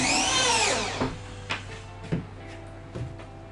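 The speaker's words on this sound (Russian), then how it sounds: "То есть требуется закрутить его максимум 5 саморезов." Power screwdriver driving self-tapping screws into a plasterboard ceiling for a lit drywall ceiling: a loud whirring run for about a second, then several short bursts and knocks, close by, with no talk.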